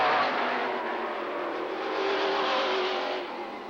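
Mid-American stock cars racing at LaCrosse Speedway in West Salem, Wisconsin, a loud sustained engine roar as cars pass close by, swelling slightly then easing off as they move away.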